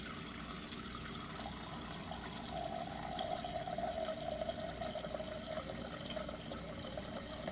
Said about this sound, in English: pouring some water in and getting it started.